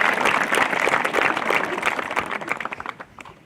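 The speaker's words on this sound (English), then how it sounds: "Another round of applause for all three of our student speakers." An audience at a 2022 high school commencement ceremony applauds student speakers, a dense, steady wash of clapping that thins and trails off into scattered claps near the end.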